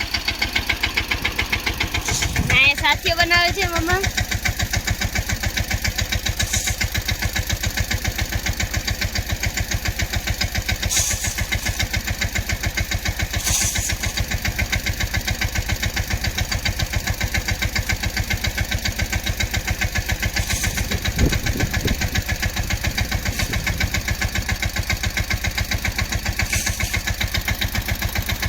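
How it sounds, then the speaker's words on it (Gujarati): A tractor engine idles steadily at a low, knocking rhythm for the whole stretch, with a brief voice speaking over it. "અને આવી ગયું આપણું ટ્રેક્ટર."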